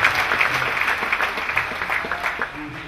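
A church congregation claps loudly and continuously in a dense, even round of applause, with no break across the stretch.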